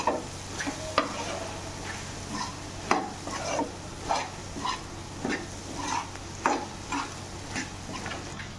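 Mutton dabba fry with chili powder cooking in a pan, with a spoon scraping and stirring in repeated strokes over a soft, steady sizzle, close by and moderately loud.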